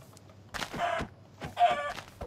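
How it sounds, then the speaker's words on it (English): Chickens cluck in a video game, two short bursts of clucking about a second apart, fairly close and clear over a low background hum. "Food, come here, chicken."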